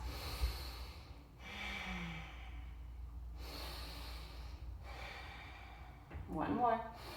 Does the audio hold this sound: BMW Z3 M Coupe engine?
no